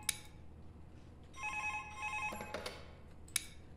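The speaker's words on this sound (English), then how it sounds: "Give me that phone call." In the Five Nights at Thomas's video game, a telephone rings with repeated trilling bursts, moderately loud, amid faint background noise and a few sharp clicks.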